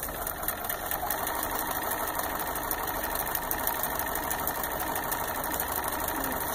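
A sewing machine running steadily while stitching a permanent seam line at a quilting retreat, a continuous close, even motor whir with rapid needle chatter.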